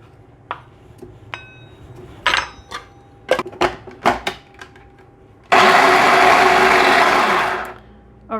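Scattered clicks and clatter as garlic and butter go into a food processor, then a loud whirring burst of chopping lasting about two and a half seconds that stops abruptly.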